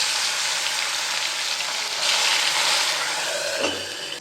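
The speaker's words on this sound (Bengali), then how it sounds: "এই সর্ষের তেল গরম হচ্ছে, দেবে মাছ ঝপাত করে ঢেলে।" Fish pieces frying in hot mustard oil in a home kitchen, a steady close sizzle and hiss that swells briefly midway, with no talking.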